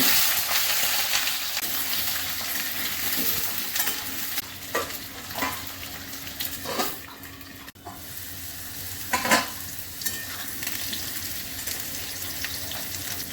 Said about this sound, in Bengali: প্রথমে পেঁপেটা আমি ভেজে নিচ্ছি।